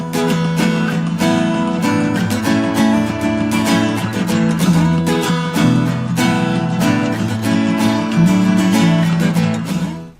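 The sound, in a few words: guitar playing a song intro with open chords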